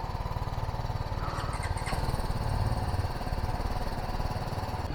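A BMW G 310 GS single-cylinder motorcycle engine idles nearby with a steady, rapid thumping pulse, briefly revving slightly before settling back to an even idle.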